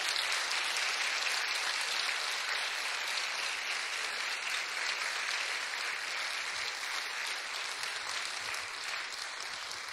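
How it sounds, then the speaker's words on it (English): An audience at the Miss Strassenfest pageant applauds the winners, including the Little Mister, producing an even, sustained patter of clapping that fades slightly toward the end. "Let's bring them out and give them a big round of applause"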